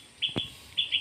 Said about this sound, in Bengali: শুনতে পাচ্ছ একটা না কিন্তু চারিদিকে অনেক পাখি ডাকছে